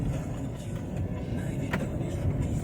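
A 2018 Ford Fusion SE pulling away: a steady, low engine and road hum with little change, heard from close by, with no talking.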